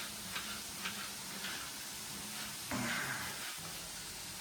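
Onions fry in a pan, giving a faint steady sizzle with occasional light ticks and clinks from stirring. There is no talking.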